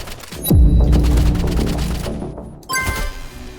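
Sniper rifle shots in a video game: a loud, heavy boom followed by a rumbling tail, then another sharp shot a couple of seconds later amid game sound effects.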